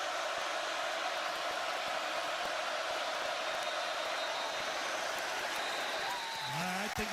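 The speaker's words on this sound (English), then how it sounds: "Crowd getting loud on 3rd and 13." A college football stadium crowd at Oregon, Oklahoma State visiting, roars on third down as a dense, continuous wash of cheering and noise, loud and sustained throughout, with a faint voice near the end.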